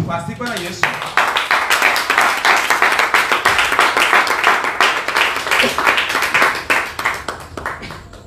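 A church congregation claps in sustained rhythmic applause, loud and close, with steady beats carrying on for several seconds and voices mixed in underneath.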